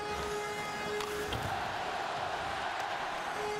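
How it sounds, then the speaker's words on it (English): Hockey arena crowd in Washington during a Capitals playoff game, a dense roar of many voices, with a steady murmur and swelling noise, chant-like but indistinct throughout. "Let's go Caps, the chant from the crowd here in Washington"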